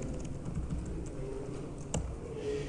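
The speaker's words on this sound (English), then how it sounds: "Type in my IP address." Keys are tapped faintly on a computer keyboard to enter an IP address, a short run of soft clicks over a low background hum.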